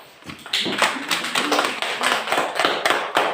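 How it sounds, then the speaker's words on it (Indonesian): A classroom of students claps their hands in a quick, roughly rhythmic burst of sharp, close claps, loud and fairly regular for several seconds. "Tepuk tangan dulu untuk mereka 4"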